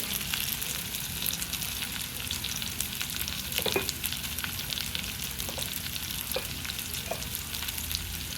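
Turmeric sizzles in hot oil with onions in a pan for poha upma, a steady close frying crackle with a few faint clinks of a spoon and no voices.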